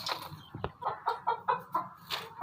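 Hens kept for eggs clucking in a small poultry pen, a close run of short rhythmic clucks in quick succession with a brief sharp noise near the start.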